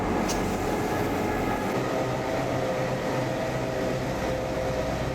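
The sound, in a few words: diesel train running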